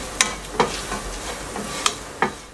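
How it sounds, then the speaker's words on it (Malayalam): Onions with turmeric and chili powder sizzle in a pan over a medium flame, with a few sharp spoon scrapes and stirring taps close by. "ഇവ ചേർത്ത് സ്റ്റവ് ഒരു മീഡിയം ഫ്ലെയിമിൽ വെച്ച് രണ്ട് മൂന്ന് മിനിറ്റ് വഴറ്റി കൊടുക്കാം"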